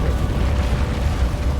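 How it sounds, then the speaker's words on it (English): A rocket launcher explosion brings down a building in Luke Cage: a loud, continuous low rumble of blast and collapsing debris with no talking. "바로 이때 코넬은 로켓 런처로 건물을 작살내버립니다."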